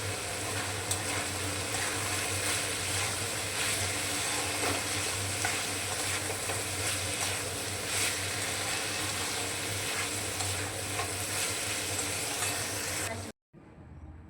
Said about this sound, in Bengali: এবার দিয়ে দিচ্ছি একেবারে কুচনো আদা। আদাটা দিয়েও একটু ভেজে নেব।